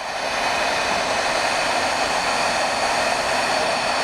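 A heat tool blows a steady, loud, whooshing stream of hot air over pigment ink and embossing gloss on marbled paper, with an unbroken fan-like hiss and no pauses.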